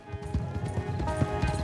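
Steady clip-clop of horse hooves trotting at a quick, even rhythm in Red Dead Redemption II, close by and moderately loud, with no talking.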